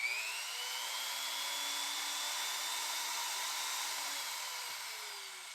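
A motor-driven porting tool runs steadily at full throttle, giving a continuous high-pitched whine with a slight wavering pitch, loud and close throughout with no talking.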